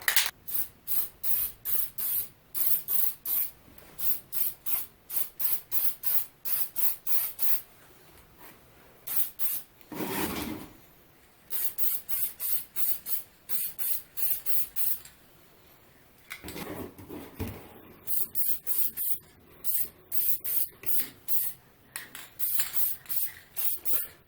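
Finish coats of spray paint go onto 3D printed radio knobs in rapid rhythmic bursts of hissing aerosol, many short sprays in a row with a few longer pauses, close and clear with no voices.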